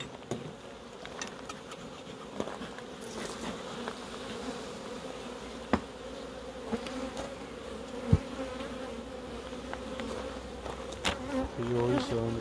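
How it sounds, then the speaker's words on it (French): Honeybees buzzing around an open beehive during hive inspection: a steady, low insect drone close by, with faint clicks and small knocks scattered through, no talk. "A priori c'est un ruche normal"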